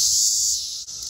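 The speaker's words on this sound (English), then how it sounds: "Sorry for the loud cicadas in the background." A loud, steady high-pitched cicada drone fills the air continuously, dipping briefly near the end.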